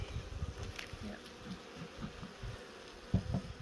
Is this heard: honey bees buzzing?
yes